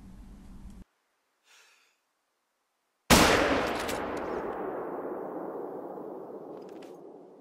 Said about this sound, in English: So we'll use the 270 on this and just try and get it in line and then go for the shot.